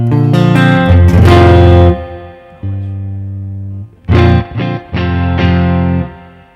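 Distorted electric guitar played through an effects pedal into speakers, loud sustained chords ringing out, a short pause, then several choppy stabs and another held chord.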